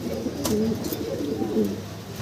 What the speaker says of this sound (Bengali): এখানে আছে একজোড়া মালটেস কবুতর